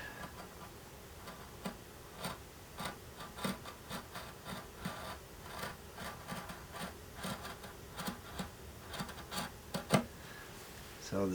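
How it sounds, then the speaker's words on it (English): Wood being hand-sanded on a guitar's decorative end graft, with a steady rasping rub of irregular, fairly quiet strokes running throughout at close range. "I should be able to sand that out"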